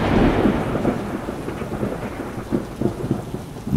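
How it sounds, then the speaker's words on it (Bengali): Heavy thunder rolls and rumbles at night over steady rain, a deep continuous roar with swelling low surges, loud and enveloping. "বাইরে প্রবল মেঘ ডাকছে।"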